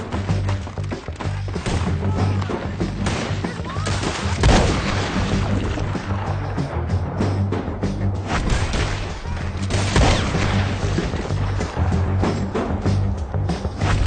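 Gunfire in the Red Dead Redemption 2 epilogue during a shootout, a loud dense run of shots and booms with sharper blasts near the 4.5 and 10 second marks and no clear talk.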